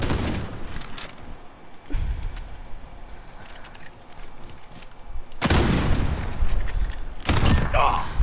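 Rapid sniper rifle shots from a first-person shooter video game, several sharp loud cracks in quick succession with broadband bursts between quieter stretches of game noise.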